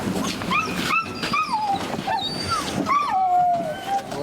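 Several hunting dogs yipping and baying in overlapping, wavering cries, fairly close and continuous, with no talking.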